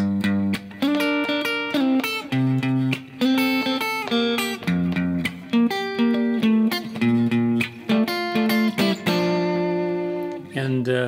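Electric guitar playing the pre-chorus of a song, live version, with rhythmic two-note chord shapes and plucked notes in short repeated phrases, clean and close with no voices.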